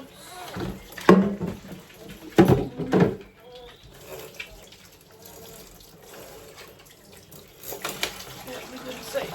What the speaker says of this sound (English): I tend to leave the tap running for that.